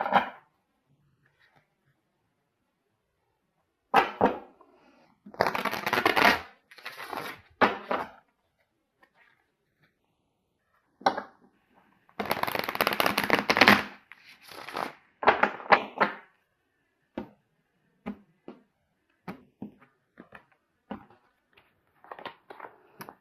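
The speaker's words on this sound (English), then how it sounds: "I'm going to get a card here from my Osho Zen deck." A deck of Osho Zen tarot cards is shuffled in a few separate bursts of papery riffling and flicking, with quiet pauses and light taps between them and no talking.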